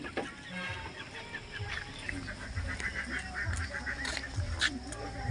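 Shamo hens, one of them brooding, cluck and call in a poultry yard at low level, with scattered soft clucks and a few sharper cries over steady background noise.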